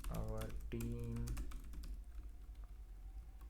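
Rapid clicking keystrokes on a computer keyboard, typed in a steady run close to the microphone while a person talks over it.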